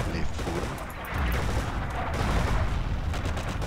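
Dense gunfire fills a World War II battle around St Lo in Forgotten Hope 2, with rapid overlapping shots and machine-gun bursts rattling continuously at close to mid range, loud throughout.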